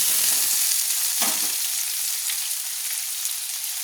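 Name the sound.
potatoes frying in a pan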